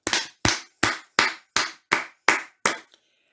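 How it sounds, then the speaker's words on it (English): A congregation claps hands in praise at a Christian Aid Sunday service: eight sharp, evenly spaced claps in a steady slow beat, loud and close, ending abruptly. "Clap your hands in praise of God's glorious creation"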